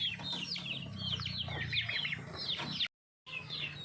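Bangkok fighting chickens at feeding time on a small farm cluck and chirp close by in busy overlapping calls, broken by a brief silent gap near the end before the clucking resumes.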